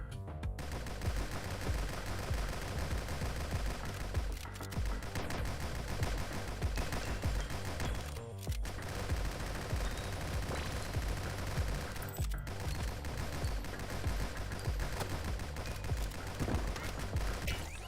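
Sustained assault rifle fire in the video game GunCraft, dense rapid bursts running nearly continuously at steady loudness, broken only by a few brief pauses.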